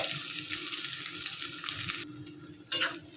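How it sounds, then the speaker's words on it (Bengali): Egg frying in a pan with noodles makes a soft, continuous sizzle with light stirring, then a sudden louder clatter near the end; no one speaks. "ডিমটা একটু ভাজা ভাজা করে নিই"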